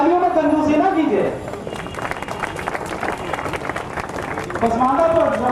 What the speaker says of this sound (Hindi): तो तालियों में कंजूसी ना कीजिए